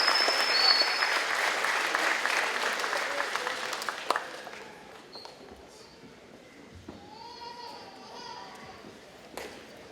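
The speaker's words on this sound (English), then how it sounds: "Give them a big round of applause," Audience applause at a high school scholarship award ceremony, starting as a loud, dense burst of clapping that gradually thins and fades over about ten seconds, with scattered voices and movement in the room.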